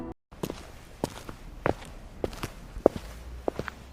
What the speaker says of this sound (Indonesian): Ia mendengar suara langkah kaki pelan di lorong rumah.